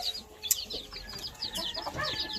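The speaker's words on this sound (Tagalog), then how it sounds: "Ito naman yung ibang sisiyo natin, no. Plymouth Rock native, cross ng native" Young Plymouth Rock and native cross chickens in a farm yard, with several close, high cheeps and soft clucks overlapping in quick irregular bursts.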